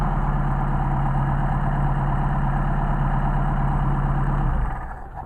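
A Mercedes 190SL engine with Solex carburetors idles steadily after a hot restart, a loud, even low rumble running throughout before dropping off near the end.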